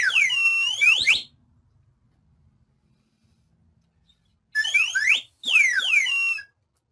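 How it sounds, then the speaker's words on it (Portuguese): A slide whistle plays two bursts of sweeping, swooping tones, first one long glide, then after a few seconds of silence two more quick up-and-down slides, bright and close. "isso aqui chama-se flauta de êmbolo"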